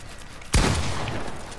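A single loud gunshot blast in the Fortnite video game, sharp and close, followed by a fading noisy tail, with no talking.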